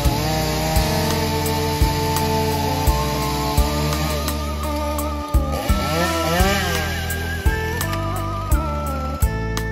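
Saw cutting through wood, loud and continuous with a rough rasping drone and rhythmic strokes throughout, close by and alone without talking.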